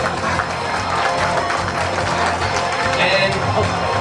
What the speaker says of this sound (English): as Paul Ying, we can all give him a thank you round of applause for his kind donation